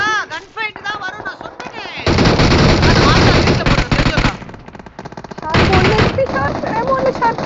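Gunfire from a gunfight in the mobile battle royale game BGMI, with loud bursts of rapid automatic shots packed into two dense stretches, alternating with voices talking in between.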